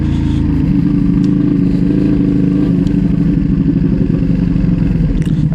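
Constant loud Ducati motorcycle engine drone while riding in Cape Town, a steady low rumble heard up close from the rider's position, with faint clicks and no speech.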